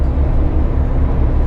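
A gutless HGV truck engine labours up a hill at night, a loud, deep, constant droning rumble heard from inside the cab.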